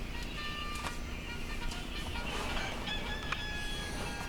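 A rooster greets the morning during an outdoor live stream, its crow-like calls faint and partly buried under a busy, steady wash of background noise, with no speech over it.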